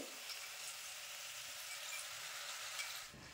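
Nimki flour snacks frying in hot oil in a kadai, a steady soft sizzling hiss that holds evenly throughout at a low level and cuts off near the end.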